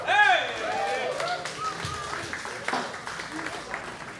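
A comedy club audience at a live storytelling-themed stand-up night applauds and claps for a comic who has just finished, while the host's amplified voice talks over the clapping.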